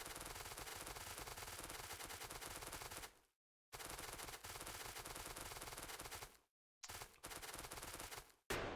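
Rapid automatic gunfire from the video game Factorio, shooting at trees: loud, dense bursts in three stretches separated by brief silences.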